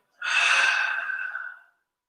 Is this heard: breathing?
yes